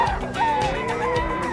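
Young rooster (stag) at a busy pet market, giving short honking, clucking calls amid a noisy crowd background.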